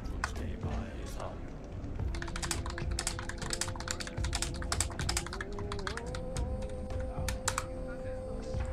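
Fast, close keystrokes rattle from a computer keyboard in steady irregular bursts, layered over ongoing background music with a sustained tone.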